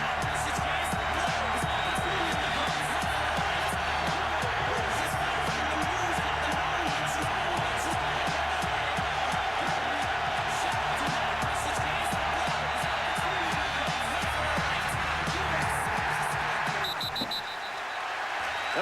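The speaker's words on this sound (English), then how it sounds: "That music in practice, Brian, interspersed with chants of defense over the loudspeakers" Loud music blaring over loudspeakers at a football practice, mixed with chanted calls for defense, a dense continuous wall of sound that cuts off near the end.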